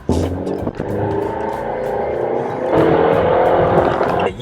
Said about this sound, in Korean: 아무래도 자연흡기 엔진이다 보니까 조금 회전수를 높여야지 엔진에 힘이 나오는 그런 면이 있는데, 2차 시도 한번 해볼게요